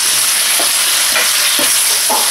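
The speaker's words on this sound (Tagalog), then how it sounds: "So, igigisa na rin natin yung beef." Lean beef flank sizzling loudly as it is sautéed in a pan with onion, a constant close frying hiss broken by a few rhythmic stirring scrapes, with no voices.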